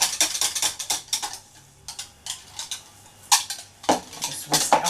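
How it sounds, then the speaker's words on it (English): A homemade body scrub mixture is whisked in a bowl, producing rapid rhythmic clicking and scraping strokes in bursts with brief pauses, close and fairly loud, with no speech. "just whisk it up a little bit more"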